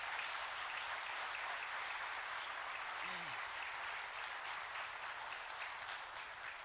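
Steady applause from a church congregation during a sermon service, continuous even clapping at a moderate distance with no clear speech on top.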